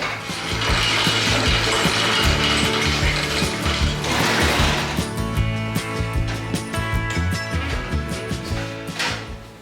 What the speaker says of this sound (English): Let's get it jacked up in the air